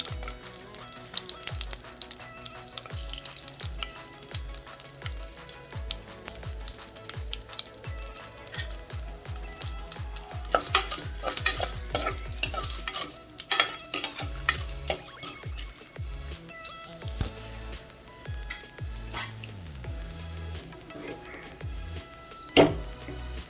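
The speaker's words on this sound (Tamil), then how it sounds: "நல்லா பொரிஞ்சு வரட்டும்." Cashews, black pepper and cumin crackle and sizzle in hot ghee and oil for venn pongal, busy close frying punctuated by repeated spoon stirs and scrapes against the pan, with no talk.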